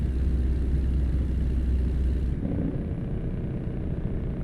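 A heavy truck engine in a trucking simulator game on an Arkansas World of Trucks event run, a steady low rumble that shifts slightly partway through, continuous and close, with no talk.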